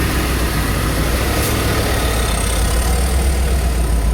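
Rough, uneven idle of a 1993 Ford Econoline van engine, a steady close rumble running alone for the whole stretch with no voices over it.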